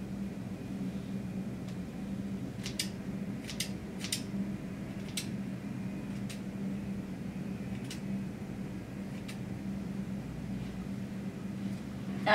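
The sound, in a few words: scissors trimming hair extensions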